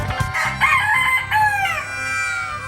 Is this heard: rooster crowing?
yes